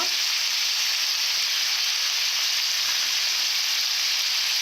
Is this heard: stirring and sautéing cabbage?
yes